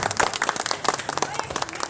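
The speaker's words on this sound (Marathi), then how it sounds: "टाळ्या वाजून स्वागत" A crowd claps to welcome an honoured guest at a housing society's Hanuman Jayanti celebration. The claps are quick, close and scattered, with voices mixed in.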